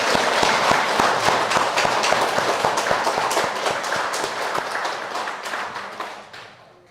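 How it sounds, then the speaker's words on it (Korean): An audience at a Buddhist dharma talk gives a burst of dense applause that starts loud, runs for several seconds and fades out toward the end. "为了感恩，我们也来鼓掌。"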